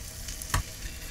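Bracken fern sizzling as it is stir-fried in grapeseed oil, a soft steady crackle with one brief louder stir or clatter midway.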